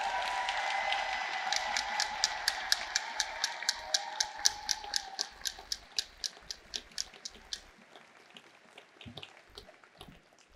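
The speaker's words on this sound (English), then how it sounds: "And another round of applause, please." A crowd in a parliament chamber claps in steady applause, loud at first and thinning out into scattered individual claps as it fades.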